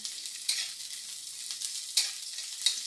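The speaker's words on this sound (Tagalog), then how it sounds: "pagkatapos ng luya, isinusunod ko na ang bawang" Garlic sizzles in a hot pan after ginger, a steady soft frying hiss with a few brief stirring scrapes at intervals, quiet and close with no talking.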